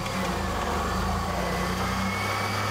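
A car engine cranked up and left running during an oil pressure check gives a steady, even idle hum with a low, constant rumble and no voices over it.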